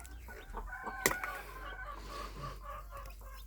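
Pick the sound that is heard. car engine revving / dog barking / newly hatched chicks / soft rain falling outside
newly hatched chicks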